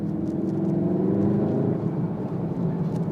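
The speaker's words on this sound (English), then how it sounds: "a little burble, a little bang out the back of the cars when they decelerate, just lift off, extra fuel being fired through the exhaust" A 2017 Volkswagen Golf R's engine and exhaust give a loud, steady, low burble as the driver lifts off to decelerate, with the tone sliding slightly downward and no distinct pops standing out.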